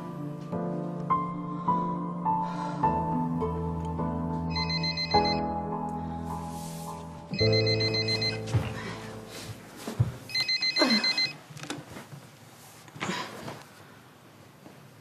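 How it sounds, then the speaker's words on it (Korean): A telephone rings in bursts of a repeating electronic ringtone, mixed over sustained background music in a domestic drama scene, with the ring pattern recurring several times. "아이고 나정이가 어떻게 할머니 집에 전화를 다 했어?"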